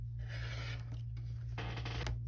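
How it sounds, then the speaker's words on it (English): Fabric strips being cut for a quilt block, giving a steady scratchy cutting sound in two close passes over a constant low hum. "So I need 4 of them, so I'm going to cut 2 strips."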